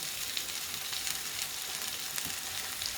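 Potato rösti frying in a pan, a steady dense sizzle running throughout with small crackles and faint scraping as the galettes are checked and turned, close and unbroken, no talking.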